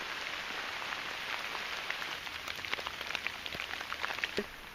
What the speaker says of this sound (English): I've gone for a little walk in rain.